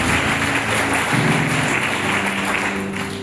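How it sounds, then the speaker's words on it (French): Worshippers at a closed Christian spiritual retreat applaud together in a large room, with loud, continuous clapping that tapers slightly toward the end. "acclamez-vous pour vous-même"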